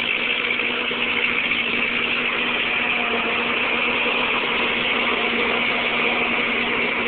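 A Ford 8N tractor engine idles steadily and evenly for several seconds, a constant mid-pitched drone with no change in speed and no talking.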